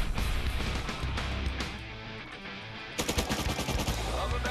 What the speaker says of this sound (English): I'm shooting him through the slit